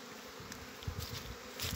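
Local honeybees buzz steadily at the hive in a quiet, continuous drone, with a few louder low bumps as bees pass close.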